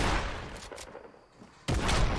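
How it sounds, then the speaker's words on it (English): Shotgun fire in Fortnite, a burst of loud blasts opening the moment, a brief lull, then another sharp, heavy shot near the end. "Oh, and a big headshot with the shotgun takes him out."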